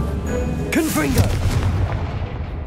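The Confringo blasting spell goes off in Hogwarts Legacy as a deep booming burst over steady game ambience, with a brief voice calling out just before the blast.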